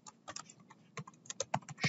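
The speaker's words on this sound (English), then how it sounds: "Control D, Shift and the arrow keys to move it a little bit" Computer keyboard shortcut keys, Control, D, Shift and arrows, tapped in quick uneven bursts of soft clicks, faint and close, with no talking over them.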